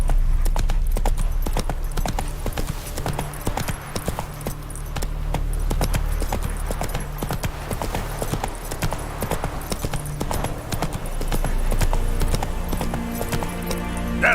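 Galloping hooves of Roach, the horse in The Witcher 3, beat a steady rapid clip-clop rhythm throughout, close and loud over a low ambient game hum.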